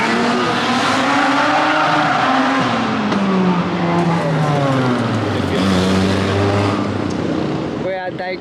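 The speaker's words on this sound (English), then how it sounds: "Everyone's running up there because someone started doing street drift." A Mazda RX-8 street drifts at a crowded Daikoku parking area car meet in Japan, its engine revving hard and tires squealing in long sweeping howls, loud and close under crowd noise.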